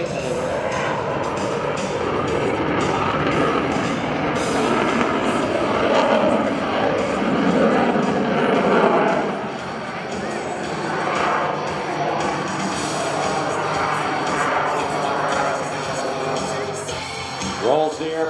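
F/A-18C Hornet jet roaring overhead during an airshow demonstration at Portsmouth, a loud sustained engine rumble swelling and fading as it loops, with an announcer talking over it.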